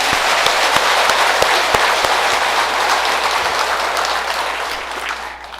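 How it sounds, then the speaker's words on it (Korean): A congregation at a Buddhist temple ceremony breaks into warm, dense applause, steady and full for several seconds before gradually thinning and fading at the end, with a few sharp individual claps standing out near the front. "박수 한번 치세요."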